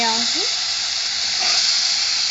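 Tomatoes tipped into a pan of sausages for rougail saucisse, setting off a loud, steady sizzle and hiss of frying that holds throughout.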